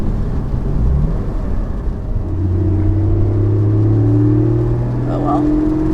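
A Porsche 718 GT4 engine revs during a downshift while driving in rain, a loud close rumble rising into sustained engine tones inside the cabin, with a voice speaking over it.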